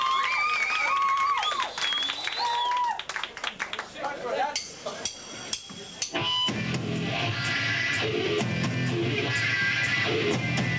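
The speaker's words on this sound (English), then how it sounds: "if you want to give them a nice big round of applause" Audience applause and cheering for a band at a 1995 live battle of the bands gig, a broad loud clapping wash that swells after speech and fills the room steadily, with clinking glasses in the crowd.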